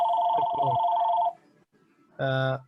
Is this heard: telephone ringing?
yes